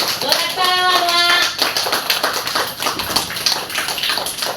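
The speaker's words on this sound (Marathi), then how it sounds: "जोरात टाळ्या वाजवा." Anganwadi children clapping loudly during an exercise session, a burst of rapid hand claps that continues in an uneven patter, with a brief whistle-like tone near the start.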